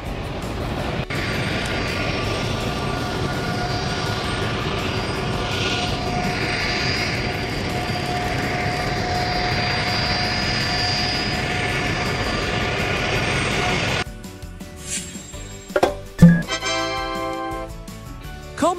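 Engines of a Tupolev Tu-204 Russian twin-jet airliner give a sustained, fairly loud roar with a faint tonal whine, then cut off abruptly, leaving a few scattered knocks and sharper sounds.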